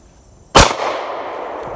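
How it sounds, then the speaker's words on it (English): A single sharp gunshot from a handgun fired by a first-time shooter at an outdoor range, a loud close crack followed by a fading echo and ambient noise. "Just keep shooting."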